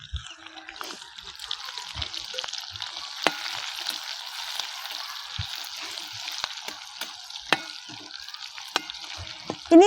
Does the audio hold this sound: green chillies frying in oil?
yes